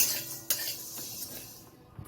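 Cumin seeds dry-roasting in a pan give faint scraping stir sounds, with a couple of light metallic clinks against the pan.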